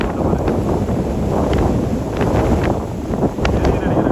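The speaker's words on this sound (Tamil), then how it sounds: "பாருங்க காற்றோட வேகம் பாருங்க." Strong cyclone wind roars over flooded streets in Chennai, a loud continuous buffeting rush close to the microphone with faint sounds of water and movement underneath.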